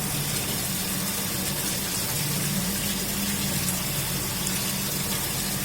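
Water pours steadily into a Bernoulli experiment apparatus in a lab, a loud continuous close gush and rush of filling liquid with no pauses.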